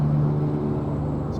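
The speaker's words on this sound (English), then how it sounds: "Let me get away from this traffic real quick" Steady low road-traffic rumble of passing vehicles along a busy street, loud and continuous with a droning engine hum throughout and no talk.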